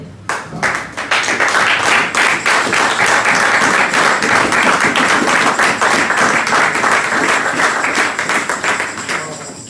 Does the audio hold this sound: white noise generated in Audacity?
no